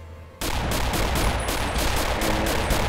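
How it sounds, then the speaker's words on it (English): A machine-gun weapon mod in Fallout: New Vegas opens up after a brief quiet start, a loud, rapid, evenly spaced burst of shots that keeps hammering for the rest of the moment. "which is a machine gun version, which I will test on my erstwhile assistant, Veronica"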